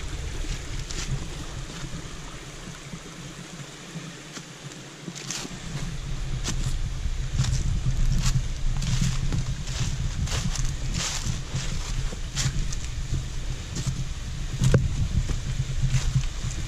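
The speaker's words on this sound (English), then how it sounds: "It's the bottom end of it. Little cascade." Water tumbles steadily down a small cascade at the bottom of Upper Horsetail Falls. It makes a constant close rush of broadband noise, with scattered clicks and knocks over it and no talking.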